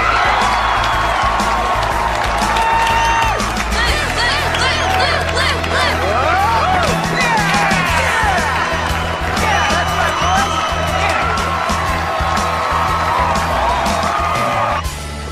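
A loud school crowd at a pep rally cheers, whoops and screams continuously, a dense wall of excited voices with some clapping throughout.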